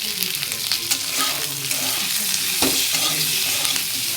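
Masala for kadhai paneer fries in a kadhai, a loud, dense sizzle with stirring scrapes and crackles running steadily through the whole clip.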